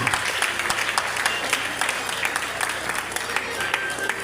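A church congregation applauds at an annual religious convention, a steady wash of clapping with scattered sharper claps running throughout, with voices mixed underneath.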